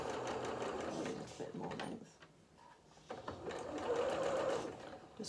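A sewing machine stitches zigzag onto fabric in two close whirring runs separated by a brief pause, with soft handling noises between them.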